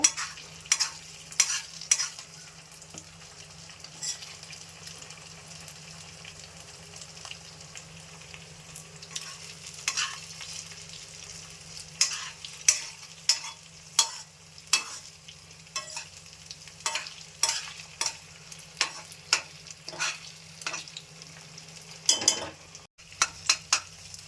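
Food frying and being stirred in a pan in a home kitchen in North Karnataka, giving a steady low sizzle broken by repeated scraping stirs and occasional clinks of a utensil against the pan, close and alone.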